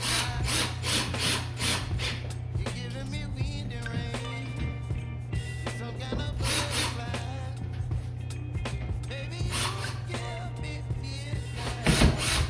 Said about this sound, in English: So you just screw it in like a normal screw.